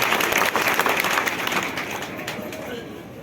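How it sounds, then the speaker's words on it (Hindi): Loud applause from a crowd at an NGO cell meeting in Mehgaon, welcoming Prime Minister Narendra Modi, a dense, steady wash of clapping that fades slightly toward the end. "जरा जोरदार ताली बजा करके स्वागत करें"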